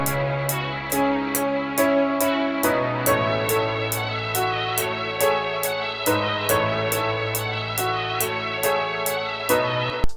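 Triplet-feel beat melody built in FL Studio and played an octave up, bright repeating notes over a sustained low chord progression, with evenly spaced high clicks marking the rhythm, steady and alone without talking.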